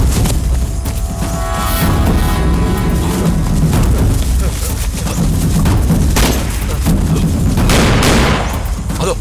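Gunfire in a Tamil-dubbed action movie rattles continuously and loudly, with dense repeated shots and booming impacts layered under a busy soundtrack, and voices call out briefly through it.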